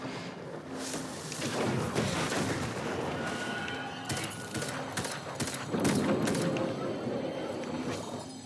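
Sniper rifle fire in the video game Destiny during a dungeon run, heavy booming shots amid dense layered gunfire and explosions, loud and continuous throughout.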